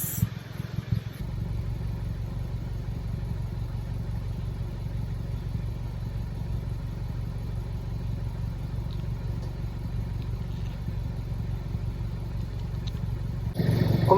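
An Audi A3 sedan idles through a new MARVIN quad-tip muffler, a steady low exhaust rumble held evenly for the whole stretch with no revving, with a brief clatter at the start and end.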